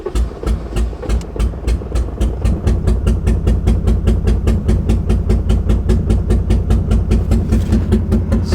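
A BMW E34 535i engine with a gunked-up sensor runs rough, its loud, rapid, steady mechanical pulsing close by and uneven, with no voices.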